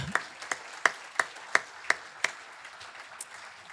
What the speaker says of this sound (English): how about one more round of applause for St.